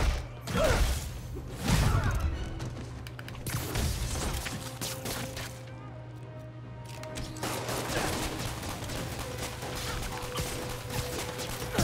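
Gunfire from enemy thugs in the PS4 Spider-Man game, a few sharp bursts early on over a steady mechanical hum, then fading into layered game noise and music.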